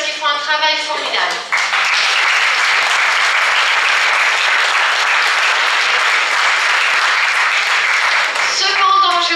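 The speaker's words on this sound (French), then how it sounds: "je voudrais vraiment qu'on les applaudisse parce qu'ils font un travail formidable" A welcome event for beauty pageant contestants fills with loud, sustained audience applause, dense clapping holding steady for several seconds, with a voice speaking briefly at the start and again at the end.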